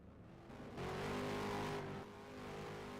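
A race car at the East Albany drag strip roars in a sustained burst that swells for about a second before easing back to a steady rumble, heard from a moderate distance with no voices.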